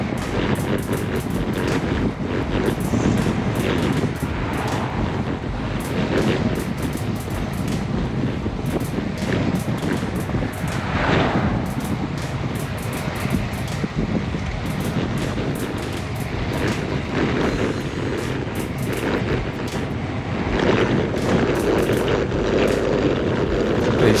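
Bicycle tires humming over a shaved, milled road surface while riding in a paceline, a constant loud rumbling roar blended with heavy wind buffeting on the microphone, no speech.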